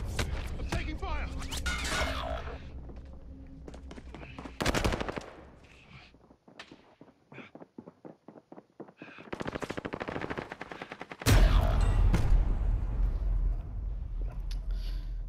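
Video game gunfire: dense bursts of rapid automatic shots close up, broken by short pauses and a louder burst near the end, with a player talking excitedly over the shooting.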